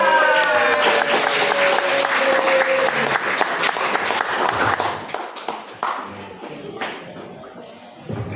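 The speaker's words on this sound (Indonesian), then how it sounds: "Tepuk tangan sekali lagi." Sustained audience applause fills a large hall at a corporate event, dense and loud at first, then thinning into scattered claps as it tapers off.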